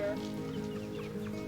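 Chickens cluck softly at a distance against a low steady background hum, with no clear talking.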